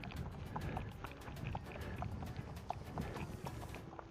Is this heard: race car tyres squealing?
no